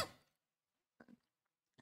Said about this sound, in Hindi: आते ही खांसी